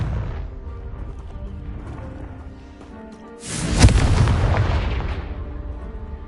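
A Confringo blast spell in Hogwarts Legacy bursts into a loud, sudden explosion partway through, following a stretch of game ambience and music, then a crackling rumble that slowly tails off.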